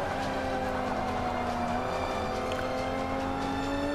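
Race cars circle a track in Forza Motorsport 5, a steady dense engine roar with overlapping whining tones from several cars, continuous and loud with no gaps.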